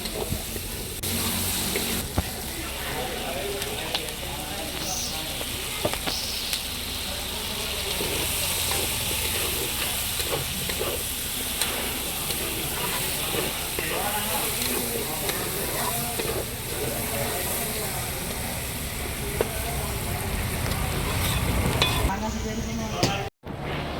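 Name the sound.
onions and potatoes frying in pork fat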